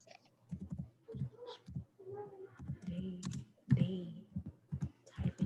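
Someone types a name on a computer keyboard, with light key clicks in short bursts mixed in with people talking nearby.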